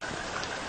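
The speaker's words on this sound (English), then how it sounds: "It's raining!" Steady rain falls in a soft, even hiss with no breaks, faint and continuous.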